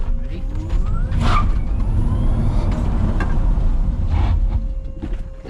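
Porsche EV conversion car braking hard to a stop, steady road and tyre noise with a faint high whine and brief squeals, near and loud, ending as the car settles.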